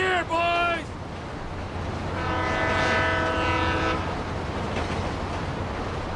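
A freight train in the GTA 5 video game sounds its horn in a few rising tones, then a long sustained blast over a steady engine rumble.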